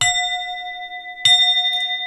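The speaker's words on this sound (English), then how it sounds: "Where's my bell?" A small bell is struck twice about a second apart, each strike ringing with a clear, sustained metallic tone that lingers between hits.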